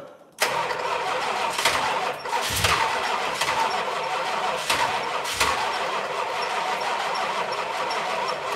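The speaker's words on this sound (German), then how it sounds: "Merkt ihr, wie brutal der eingestellt ist, der Motor?" A Plymouth Satellite with very advanced ignition timing cranks and catches on its first start attempt, then settles into a loud, steady rough idle with a few sharp pulses close to the microphone.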